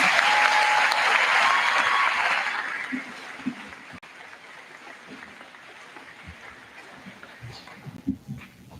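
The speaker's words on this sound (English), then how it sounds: "how about one more round of applause for our senior scholars?" Graduation-ceremony audience at a high school applauds senior scholars, a loud dense burst of clapping for about three seconds that then drops to scattered, quieter claps and crowd murmur.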